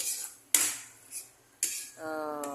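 Oysters being sautéed and stirred in a pan, with two sharp metallic scrapes of a utensil against the pan followed by a sizzling hiss, fairly close.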